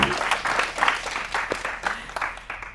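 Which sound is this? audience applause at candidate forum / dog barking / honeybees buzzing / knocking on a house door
audience applause at candidate forum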